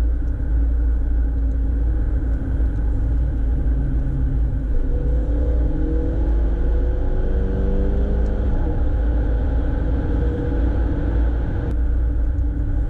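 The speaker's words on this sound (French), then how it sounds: "une voiture qui a 218 chevaux et qui fait un super bruit comme ça" A 218-horsepower Mercedes CLA 250 AMG engine rumbles steadily with a deep, low drone, close by and continuous throughout, with a slight rise in pitch partway through.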